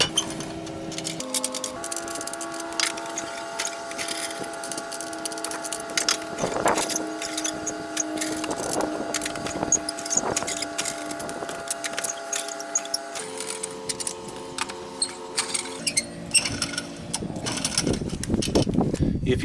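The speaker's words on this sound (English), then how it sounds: "Now we'll just take those off. Pretty easy to take off with the 4-way." A 4-way lug wrench turns lug nuts off a 2004 GMC Yukon Denali wheel, metal clinking and rattling steadily under a constant engine-like drone, with sharper clanks near the end.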